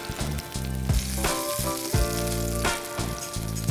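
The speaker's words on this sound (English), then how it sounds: "you can start flipping the wedges and cook those for another 2 to 3 minutes until that side browns" Fennel wedges fry in a hot pan with a dense, steady sizzle and crackle, close and loud, alongside a low tonal hum that stays constant throughout.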